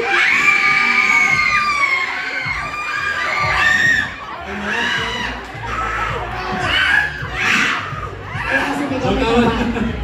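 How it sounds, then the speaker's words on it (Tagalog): A large audience shouts and cheers loudly in unison, with shrill children's voices standing out. Bursts of roaring swell and dip across ten seconds amid overlapping chatter and laughter. "Parinig ako, yung pinakamalakas na hiyaw nyo, yung 5, sabay-sabay kayo."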